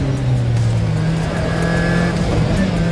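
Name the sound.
supercharged and turbocharged car engine driving fast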